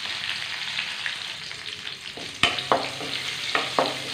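Curry leaves and turmeric powder hit hot oil in a pan, giving a soft, steady sizzle throughout, with several sharp crackles and spatters near the end as the leaves fry.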